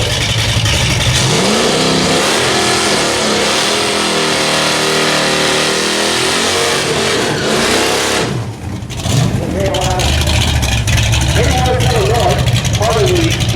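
A Pontiac LeMans drag car with a 455 engine launching at the 2023 No Name Nationals, its loud engine roaring and climbing in pitch for several seconds, dipping briefly, then pulling hard again down the track.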